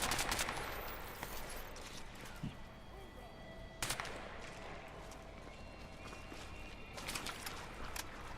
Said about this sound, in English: I love the sounds and the feel of the weapons in this game.